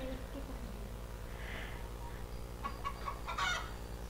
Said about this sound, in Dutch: Kippen worden bang. En rennen er vandoor.